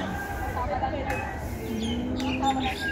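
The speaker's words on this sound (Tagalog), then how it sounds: "Yan pala yung ibon na ingay siya. Yan yung itim." A black bird calls with thin, whistled chirps and a drawn-out tone, moderately close, while a person talks over it, in Kowloon Park, Tsim Sha Tsui, Hong Kong.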